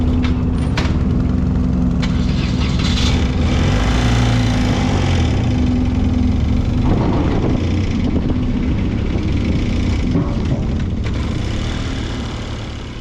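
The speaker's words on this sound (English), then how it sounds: "As the ferry was getting turned around so that it could dock" A ferry's engine drones steadily as the vessel turns around to dock at Caleta Puelche, Chile, a loud continuous low rumble with a faint hum and a few clanks, easing slightly toward the end.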